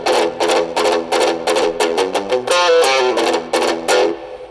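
Electric guitar, a Strat, played through a JOYO JA-05G mini amp with moderate distortion: a quick run of loud, gritty picked notes and chords in a steady rhythm, close and alone with no talking.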